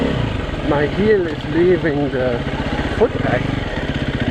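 A KTM EXC-F dirt bike engine runs steadily with a throbbing, pulsing note while the rider downshifts on gravel forest roads in Okutama, Japan. The engine is close and continuous, and someone talks over it throughout.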